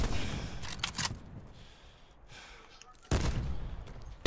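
Gunfire in the Call of Duty Blackout video game, a burst of rapid shots at the start, a quieter lull, then a loud sudden blast of fire near the end, mixed with game noise.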